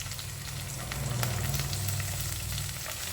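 Curry leaves, green chilli and chopped ginger frying in coconut oil in a pan, a dense, steady sizzle and crackle that swells slightly midway, close and continuous.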